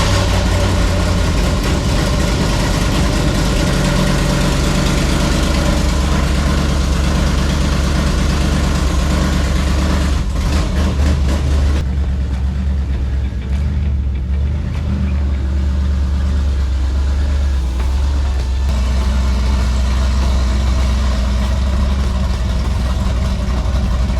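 A Chevrolet Caprice PPV engine idling steadily while running rich, a loud, continuous low rumble that holds throughout with a slight shift in tone about midway.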